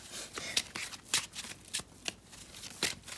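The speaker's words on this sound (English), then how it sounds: "When I can shuffle properly." Cards being shuffled close up: a run of quick crisp riffles and flicks in short bursts, no talking.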